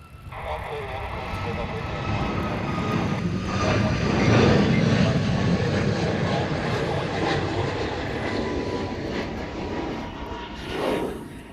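German Eurofighter military jets take off from a Honolulu runway, a loud, sustained engine roar that swells toward the middle and stays strong, heard from a distance with an outdoor rumble underneath.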